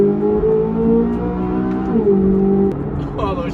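A Corvette Z06 with a naturally aspirated LT6 V8 pulls hard in first gear from inside the car, its engine note rising steadily before quick gear shifts cut in.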